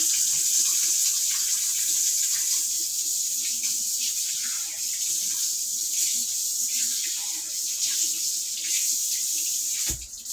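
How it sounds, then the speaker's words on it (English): Tap water runs steadily into a kitchen sink while egg is washed off hands, a continuous close hiss that lasts the whole stretch and ends in a short knock of handling, with no talking. "what I'm going to do is wash my hands because I have egg on my hands"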